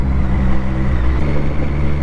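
A Lotus car engine holds a steady, low rumble close by on a twisty road, heard alone over continuous road and wind noise with no clear rise in revs.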